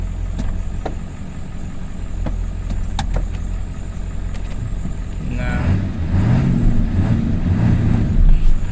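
A 1997 Ford F-350 pickup straining to move on a slipping transmission: a steady engine drone that rises into wavering, surging revs partway through, close and loud, with no talking.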